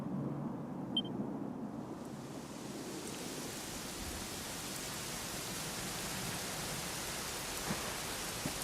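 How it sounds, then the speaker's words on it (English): Steady rain in the video game Dragon Quest XI hisses continuously, a dense broadband wash with faint low rumble beneath and no voices. "it was raining like this"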